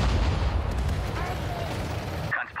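Artillery cannons fire in the World War II strategy game Sudden Strike 4, a dense, loud barrage of booms and rumbling explosions that ends abruptly, with game voices mixed in.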